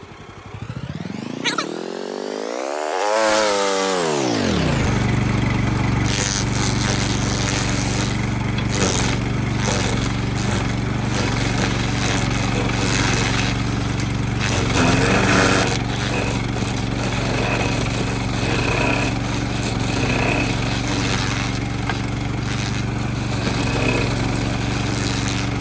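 A Power King DK2 stump grinder engine starts with a rising pitch sweep and then runs steadily at a loud, continuous drone, with a few fluctuations in revs over about twenty-five seconds.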